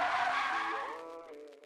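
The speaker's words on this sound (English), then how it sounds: "car skids on the icy road" Car tires skid and squeal on an icy road, a loud screeching slide that bends downward in pitch and fades out near the end, like a sound effect.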